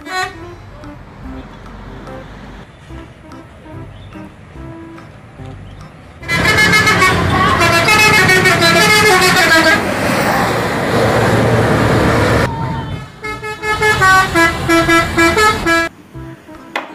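A Harapan Jaya bus sounding its horn, loud melodic honking tones blaring in long sustained bursts with brief pauses, heard close amid road traffic noise.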